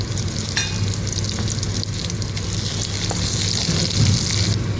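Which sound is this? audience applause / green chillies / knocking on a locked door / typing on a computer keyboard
green chillies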